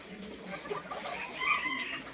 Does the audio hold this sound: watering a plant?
no